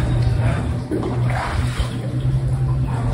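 Steady rain pours down in a broad wash in Mahahual, Mexico, with splashing water and a low continuous hum running underneath.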